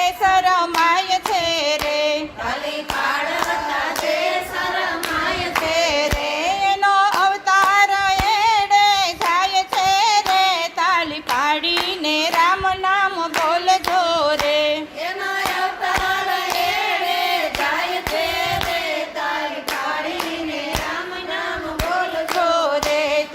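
Hands clap in a steady rhythmic beat to keep time with a devotional Gujarati bhajan, the sharp regular claps sounding alongside loud sung vocals and accompanying music throughout.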